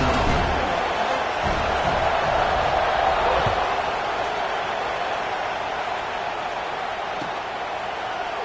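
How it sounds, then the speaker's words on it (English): A large football stadium crowd just before kickoff, a steady, broad roar of many voices that holds evenly loud throughout, with no single voice standing out. "this crowd now ready to get behind them"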